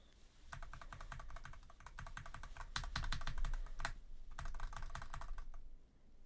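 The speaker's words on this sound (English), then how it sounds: "my keyboard, has red switches. It's also my very first mechanical keyboard" Rapid clicky keystrokes on a mechanical keyboard with red switches come in bursts with short pauses between, close and crisp.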